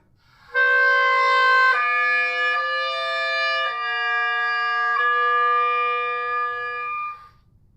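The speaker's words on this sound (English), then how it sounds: "Sometimes composers will call on an oboist to play more than one note at once. This is called a multiphonic" An oboe sounding a loud, raucous multiphonic, several notes at once with a buzzing, harsh edge, held for about seven seconds and shifting between a few chords, alone with no talking.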